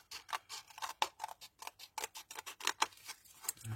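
Scissors snip steadily through material for a handbag project, a close, fairly quiet run of about twenty crisp cuts in a quick, even rhythm.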